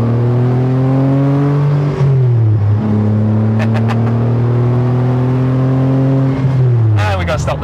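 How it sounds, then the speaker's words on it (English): A car engine revs up strongly through the gears, pitch climbing then dropping at each shift, loud and close inside the cabin. "Enjoy the revs to get up to the highway speed."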